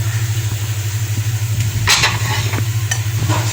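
Whole spices such as black pepper, dried red chillies and green cardamom dry-roasting in a pan for shami kebabs, giving a steady close sizzle and crackle with a low hum underneath and brief bursts of stirring.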